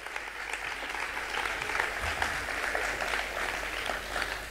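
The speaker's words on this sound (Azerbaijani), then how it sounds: "alqış sədaları altında" Sustained applause from a concert audience at a jazz festival in Baku as a jazz band's musicians are introduced, a dense, even clatter of many hands lasting throughout, moderately distant.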